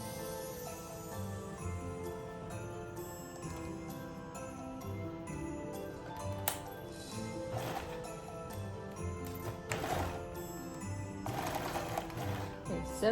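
A sewing machine stitches through thick fabric on a Christmas stocking in quick, rhythmic bursts of mechanical clatter with short pauses between runs.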